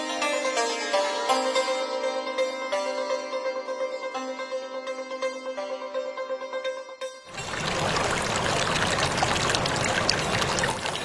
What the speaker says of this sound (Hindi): यह ऐतिहासिक कुकुत्था नदी है।